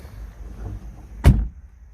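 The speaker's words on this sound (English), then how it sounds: "Okay, let's close the door." A single solid thunk of a 2020 Renault Duster RXS (O) CVT car door shutting from inside the cabin, a loud brief impact that dies away quickly over a low, quiet interior hum.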